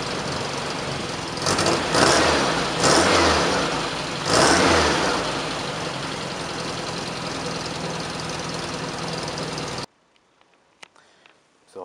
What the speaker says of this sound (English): Let me actually start up and give you guys the sound of this current exhaust at the moment